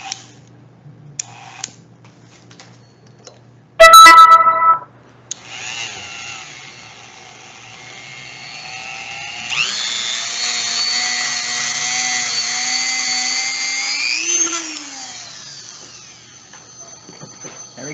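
A gyroscope flywheel in a gyro compass spinning up to about 3,000 RPM, a motor whine rising in pitch and settling into a steady high hum after a loud mechanical burst and some clicks.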